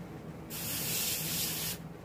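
A short burst of airbrush spray lasts just over a second as paint goes onto a carved wood duck. The steady hiss starts and stops cleanly against a quiet background.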